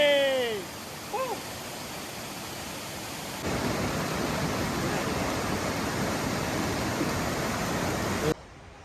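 Waterfall in Bali roaring as a steady broadband wash of falling water, loud and continuous, swelling stronger partway through, with a few faint chirps near the start.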